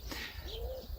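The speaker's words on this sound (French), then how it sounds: "Coq, tourterelle, ça va les gars? Je vous dérange pas?" Turtle dove cooing close by, a soft low repeated coo with light chirps around it, in a setting where a rooster is also nearby.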